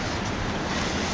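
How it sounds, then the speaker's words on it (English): Wind blowing hard outdoors makes a steady, close broadband roar with microphone buffeting across this brief moment, and no one speaks. "it's just way too windy out here"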